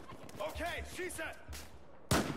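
Battlefield 4 gunfire: a few sharp blasts cut through someone talking, with one loud, abrupt shot near the end.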